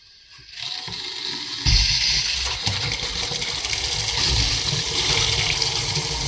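Water gushes steadily from a new kitchen mixer faucet bought from AliExpress. The flow starts with a soft hiss, then jumps to a loud, close, continuous splash as it opens fully and keeps running.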